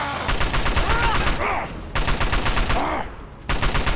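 Assault rifle firing in the Fallout Tale of Two Wastelands game: two long sustained bursts of rapid automatic fire, each about a second and a half, separated by short pauses, with a third burst starting at the end, loud and close.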